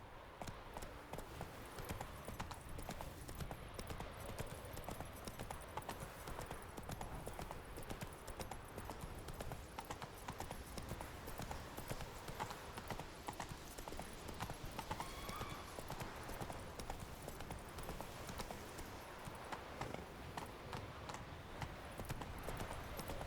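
Horse hooves clip-clop at a steady gallop in the open-world fantasy game The Witcher 3: Wild Hunt, a fast rhythmic drumming under ambient game sound.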